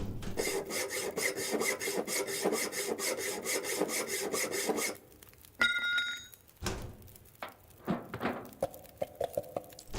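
Hacksaw cutting in the video game The Long Dark, a fast regular back-and-forth rasp of strokes for about five seconds, then scattered thunks, clinks and rustles.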